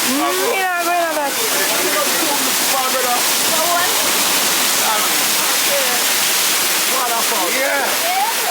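Waterfall in St. Thomas, Jamaica, a loud, steady rushing roar of falling water filling the scene, with people talking and exclaiming nearby over the constant wash.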